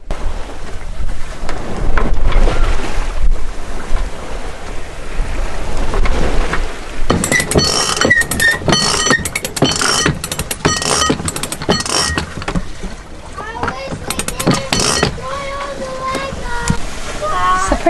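A sailboat beats upwind off Mexico, with rushing wind and splashing water around the hull, loud gusty noise through the opening seconds, then choppy bursts of spray and wash, with voices faintly in the background.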